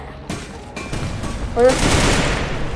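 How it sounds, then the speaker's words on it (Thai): Gunfire from the Free Fire battle-royale video game, with broadband bursts of shots building in density and loudness toward the end, plus a ricochet-like chirp midway, under occasional talk. "แต่มันก็ยังยิงมาอีกอะฮะ"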